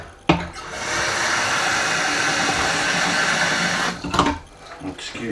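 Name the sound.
electric kettle boiling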